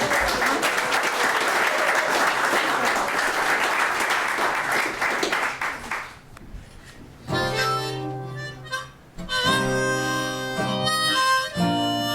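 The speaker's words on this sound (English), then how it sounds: "Big hand for Peter for this sound" Loud, dense applause from a concert crowd lasts several seconds, then fades as music begins.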